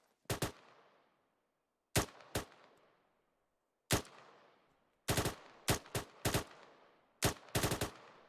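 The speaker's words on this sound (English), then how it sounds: "Okay, return fire. Take that cover. Start returning appropriate fire." Bursts of rifle and automatic gunfire ring out during a military training exercise, loud single shots and rapid multi-round strings separated by short pauses, each crack trailing off in echo.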